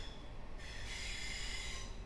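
An NS VIRM double-deck electric train in a ChrisTrains simulator pulling away, a quiet steady rolling rumble with a high whine rising partway through and holding, no voices.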